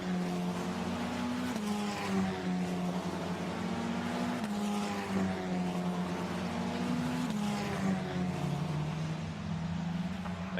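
A Formula Renault Eurocup race car in qualifying at Imola heads toward Rivazza, its engine a loud steady drone with several upshifts and small pitch steps, continuous with no talk.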